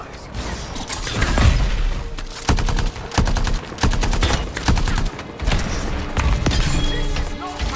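Heavy sustained gunfire in the video game Anthem, dense automatic bursts and sharp shots crackling over mechanical clanks and creaks, loud and continuous with brief pauses.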